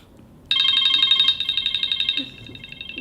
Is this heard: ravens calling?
no